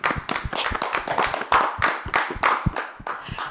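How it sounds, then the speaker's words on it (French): A small group of women clap in a TV studio, a close, loud burst of quick uneven handclaps with distinct sharp slaps overlapping for several seconds. "Applaudissez pour vous-mêmes."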